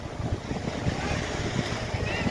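A ride boat out on the sea near Okha gives a continuous low rumble mixed with wind buffeting and water wash, steady and fairly close, with no clear speech.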